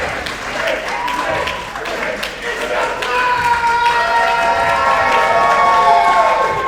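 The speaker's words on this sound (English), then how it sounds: "These fans definitely know nothing about professional wrestling if they're cheering for Jake." Crowd of professional wrestling fans at an indoor event cheering and shouting, loud and sustained, with whistles and excited voices rising toward the end while a commentator talks over it.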